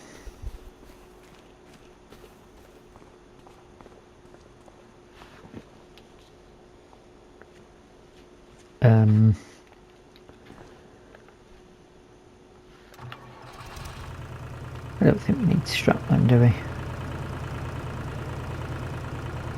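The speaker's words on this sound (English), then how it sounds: "Let the engine warm up a little bit." A vehicle engine in Farming Simulator 25 cranks and catches partway through, then settles into a steady idle, after a quiet stretch where someone speaks briefly and a few short clunks sound.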